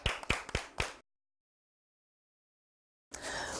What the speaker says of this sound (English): can you give yourselves a very, very big clap?